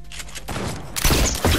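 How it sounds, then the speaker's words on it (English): Rapid gunfire in a shooter video game: a burst of overlapping shots and crackling fire that swells louder in the second half, close and sharp with no talk over it. "I'm getting shot from a place I don't even know where it is."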